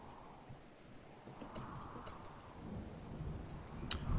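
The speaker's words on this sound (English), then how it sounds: "This rainy thunderstorm's not making it easy." A rainy thunderstorm in the game RimWorld, with a faint, steady hiss of rain and low rumbling underneath, sharp ticking drops spattering now and then as the rumble slowly swells.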